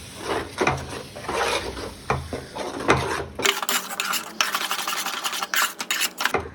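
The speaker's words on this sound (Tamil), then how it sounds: "தேங்காய் ஸோ சேர்த்தாச்சு. நல்லா மிக்ஸ் பண்ணி கொடுத்துடலாம் இந்த மசாலாவோட." A spoon scrapes and stirs ground coconut into curry masala in a pan, with repeated rubbing, scraping strokes, close and steady, growing busier and more clattery in the second half.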